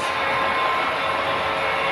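Four computer-controlled model trains run on a block-controlled layout, making a steady, even rumble of wheels and motors close by with no break.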